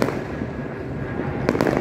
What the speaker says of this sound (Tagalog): Marlene Magtibay dahil sa gaganda ng fireworks